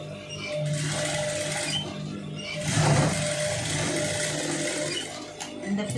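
A sewing machine stitches a long sleeve onto a garment, running steadily and close by for the whole stretch with its whirring motor, swelling a little louder near the middle.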